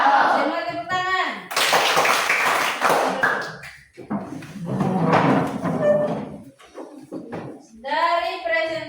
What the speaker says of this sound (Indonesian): Semua tepuk tangan.